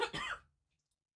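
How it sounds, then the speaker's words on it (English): A single short, close cough or throat-clearing sound, followed by quiet. "I apologize for the coughing and the sniffling."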